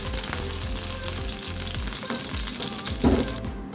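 Cooking oil sizzles steadily in a pan, heating to sauté garlic and onion for a Filipino squid and tomato dish; a continuous close crackle with a brief louder burst near the end, no talking.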